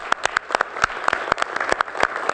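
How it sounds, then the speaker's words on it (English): At a Palo Alto city council meeting, people clap for the EVSE task force. The claps are sparse and distinct, a small crowd of separate hand strikes spread unevenly across a couple of seconds. "If I could have the EVSE Task Force stand, we'd love to give them a round of applause."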